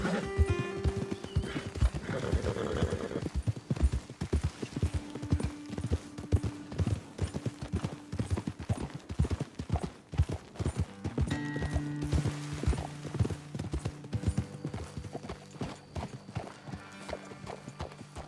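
Steady clip-clop of horse hooves trotting on hard ground in Red Dead Redemption 2, continuous and fairly close, with occasional whinnies and faint voices in the background.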